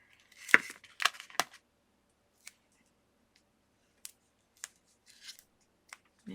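Scissors snipping a paper card during crafting, a few quick close cuts at the start, then scattered faint single snips with quiet gaps between.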